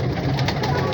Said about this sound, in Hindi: ये देखिए बड़ा तगड़ा कबूतर है ये माशाल्लाह।